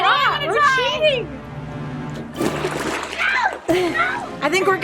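Splashing in water as someone attempts to walk on its surface, sloshing bursts mixed with loud excited voices talking and squealing close by.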